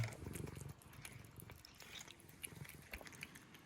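A cat purrs softly with a low, rhythmic rumble that is strongest at first, faint and close, mixed with light chewing or nibbling noises.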